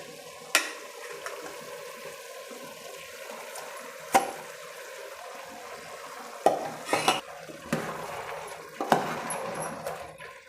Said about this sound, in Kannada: ರುಬ್ಕೊಂಡಿರೋ ಮಸಾಲೆನ ಸೇರಿಸ್ತೀನಿ.